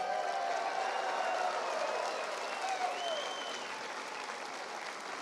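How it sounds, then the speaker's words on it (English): A crowd at a political rally in Ottawa applauds and cheers in a sustained, dense roar of clapping. Whistles and voices rise above it, and the sound holds fairly loud throughout. "Give Shirley a round of applause."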